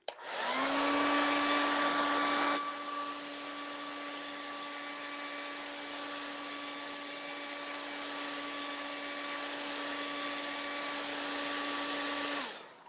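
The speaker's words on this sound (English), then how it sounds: "I'm going to blow dry that" A hair dryer switches on and blows steadily on a freshly painted Easter bunny door hanger, a close, constant whirring hum with a steady tonal whine, first on a stronger setting and then a slightly softer one, until it shuts off.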